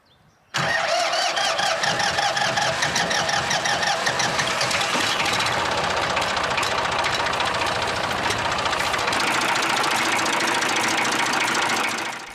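A tractor's diesel engine cranks and catches after a brief quiet moment, then runs loud and rough with a knocking clatter that continues steadily for several seconds before dropping off at the end, with no voices.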